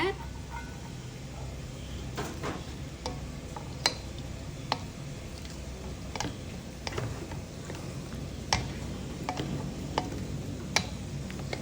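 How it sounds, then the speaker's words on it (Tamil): A spoon stirs pomegranate seeds into a raita of yogurt and cucumber, giving faint, irregular clinks and taps against the bowl over a soft background hum. "மாதுளம் இது போட்டுட்டு நல்லா கிளறுங்க"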